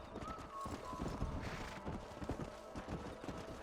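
Horses gallop in the Red Dead Redemption 2 video game, their hooves clattering in a quick, uneven rhythm, heard quietly and at a distance.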